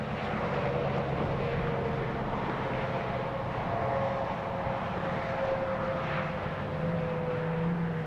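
A NASA rocket lifts off in a continuous broadband roar that holds at a steady level throughout, heard from a distance with no speech over it.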